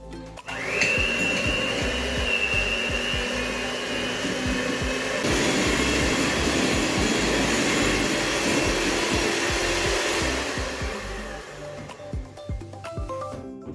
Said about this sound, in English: We're going to start by beating our butter for about 5 minutes.